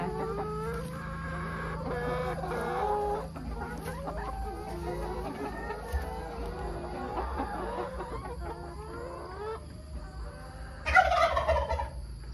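Laying hens in a farm coop of about forty birds cluck and chatter continuously at close range, with a louder burst of agitated squawking near the end.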